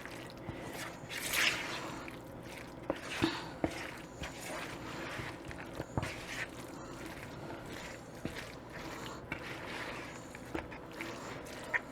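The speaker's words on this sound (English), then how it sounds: "Now I just stir it around until I get it all mixed up." Potato salad with eggs and dressing being stirred in a bowl gives faint, wet squishing and soft clicks that continue at close range.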